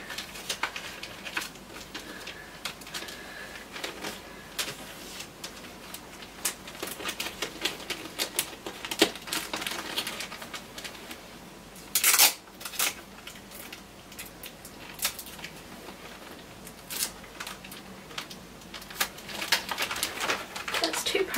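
Christmas presents being wrapped give off a long run of close paper crinkles, rustles and sharp tearing or taping clicks, busy and irregular throughout, with a louder burst near the middle.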